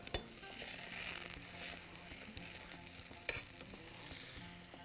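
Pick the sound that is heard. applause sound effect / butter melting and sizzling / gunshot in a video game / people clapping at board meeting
butter melting and sizzling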